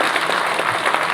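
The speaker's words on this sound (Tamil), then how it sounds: "இந்த அரங்கம் நல்ல அதிர மாதிரி நல்ல பலத்தை கரகோஷம் கொடுங்க அவருக்கு." An auditorium audience at a film audio launch claps in sustained, dense applause that stays loud and even throughout.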